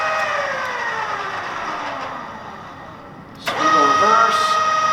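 Wilton radial arm drill, model 521301 with a 4-foot arm and 2-speed motor, running its spindle forward: a steady close motor whine with tonal bands that shifts and rises as the spindle engages, with a voice speaking over it.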